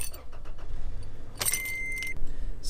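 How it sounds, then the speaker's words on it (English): A car being started with keys: a jingle of keys, then a short burst as the engine cranks and catches, settling into a steady idle at close range. "Go ahead and start the vehicle."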